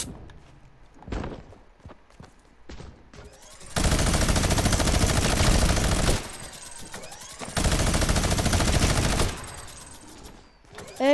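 Gunfire from a shooting video game: long sustained bursts of rapid automatic fire, loud and close, alternating with shorter single shots and quieter gaps.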